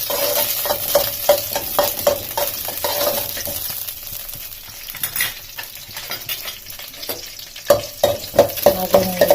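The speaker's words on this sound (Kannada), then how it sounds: "ಹಸಿ ಮೆಣಸಿನ್ಕಾಯಿ ಹಾಕೋತಾ ಇದ್ದೀನಿ, ಸ್ವಲ್ಪ ಬಾಳಕ್ಕೆ ಬಿಡ್ತೀನಿ" Green chillies frying in hot oil give a continuous crackling sizzle, broken by repeated sharp clicks and scrapes of a spoon stirring against the pan.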